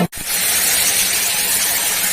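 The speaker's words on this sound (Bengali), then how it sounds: "এবার একটু জল দিয়ে দেবো" Water poured into a hot frying pan holding fried potato, tomato and greens stalks for a ridge gourd and poppy seed dish, bursting into a loud, steady hiss of steam after a brief pause and continuing without let-up.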